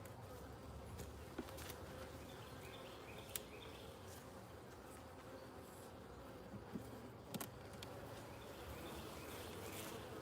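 Honeybees hum faintly in an open beehive, a low, continuous buzz that fills the background, broken by occasional sharp clicks and knocks from handling, and a bird is faintly heard.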